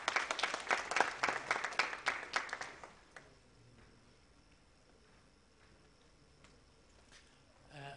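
Audience applause at an education summit's inaugural session, a burst of dense clapping filling the hall for about three seconds before fading to quiet room tone.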